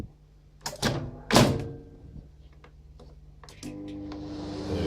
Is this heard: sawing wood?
no